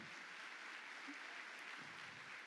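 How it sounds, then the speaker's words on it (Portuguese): Faint, distant audience applause at a church conference, an even wash of clapping with no break. "Quero que vocês aplaudam comigo"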